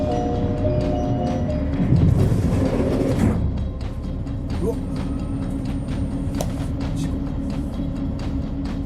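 An Odakyu Romancecar train passes a railroad crossing, a loud rumbling roar that swells around two to three seconds and then settles into steady rolling noise with faint tonal whines.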